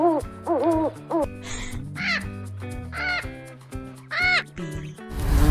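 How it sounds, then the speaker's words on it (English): Owl hoots repeat in a children's animal-sounds song, several clear warbling calls with pauses between them over a gentle music bed, ending with a brief noisy burst. "owl"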